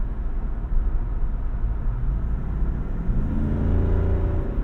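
A 2024 Jeep Wrangler Rubicon 392's V8 rumbles deeply through its exhaust with baffles set quiet, then swells louder as the throttle opens near the end, a steady close growl.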